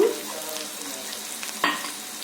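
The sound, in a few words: crushed garlic cloves and curry leaves frying in oil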